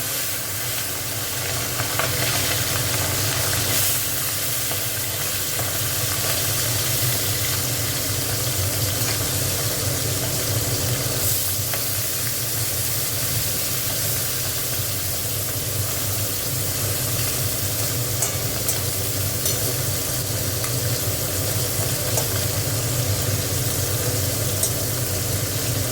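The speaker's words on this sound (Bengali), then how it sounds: "তেলটা গরম হয়ে গেছে, এখানে মাছটা দিয়ে দেবো। মাছটা একটু ভেজে নেবো।" Small tangra fish fry in hot oil in a kadai, a loud, dense and constant sizzle lasting throughout, close and with no one speaking.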